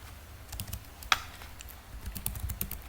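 Keystrokes on a computer keyboard while a git commit command is typed, a quick irregular run of light clicks with one sharper keypress near the middle, close up over a faint background hum.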